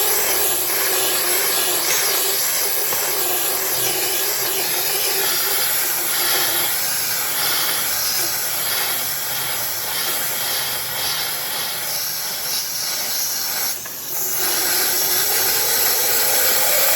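A Eureka Forbes SteriSteam steam cleaner used for kitchen deep cleaning gives a loud, steady, close hiss of steam that runs unbroken, with one brief dip partway through and no talking.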